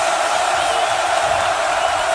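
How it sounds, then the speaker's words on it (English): Loud, steady roar of a packed college football stadium crowd at the SMU vs Penn State playoff game, a dense wash of cheering with no break across the moment. "Crowd loud."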